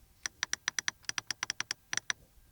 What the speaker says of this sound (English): here then, the AC units, the menu clicking sound